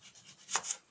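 A knife slices through a cucumber on a board in a home kitchen, giving two quick, soft cuts close by against a quiet background.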